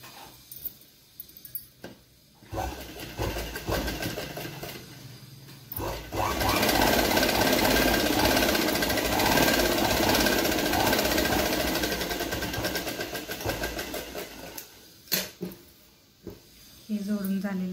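A sewing machine stitches boxer shorts in fast, continuous bursts of loud mechanical chatter, with short pauses and some speech around the start and end.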